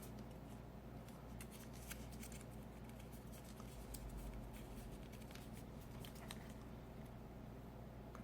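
Sheets of paper are creased and folded by hand to make a paper sniper gun, with soft close crinkles, scrapes and taps repeating throughout, faint and without talk.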